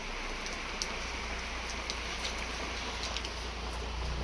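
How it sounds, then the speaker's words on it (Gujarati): Unseasonal rain falls on farmland in a standing cotton field, a steady dense patter with a few sharper drops, constant and moderately loud, and no voices. "તો મિત્રો જુઓ પાછળ વરસાદ આવી ગયો છે"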